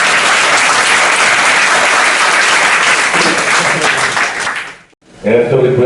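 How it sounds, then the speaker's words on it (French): Loud, close audience applause fills the room as a dense, continuous wash, fading out near the end before a voice begins speaking. "Pour vos applaudissements, s'il vous plaît, mesdames et messieurs."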